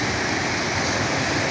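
A small waterfall in Mozambique gives a steady, close rushing of water that stays even from start to finish.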